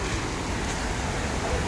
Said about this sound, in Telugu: వాటర్ మాత్రం వేరే లెవెల్ ఫ్లో అవుతున్నాయి గైస్